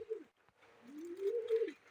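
Pigeons cooing in a loft, one short coo followed by a longer drawn-out coo, soft and fairly close with little else around.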